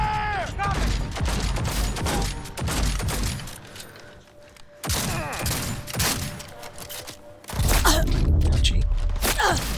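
Dense, continuous gunfire in a Cyberpunk 2077 firefight, sustained bursts packed together with booming hits and game effects; rounds keep coming loud and close with brief lulls.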